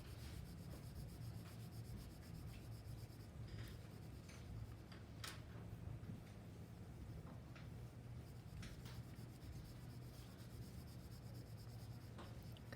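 A pencil rubs softly and continuously across paper, blending shading in a slow, even scratchy wash with faint ticks, close and quiet.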